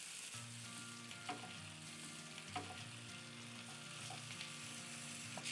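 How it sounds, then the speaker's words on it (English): Potatoes and onions fry in a pan with a faint, steady sizzle, broken by a few soft scrapes and taps as they are stirred; no one speaks. "now I just have to stir and start cooking the potatoes and onions"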